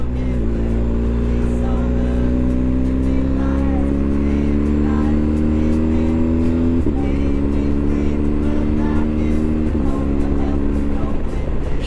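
A BMW R1250GS motorcycle engine rising through the revs under steady wind rush, its pitch climbing and then dropping abruptly twice as the Shifter Pro clicks through quick gear changes.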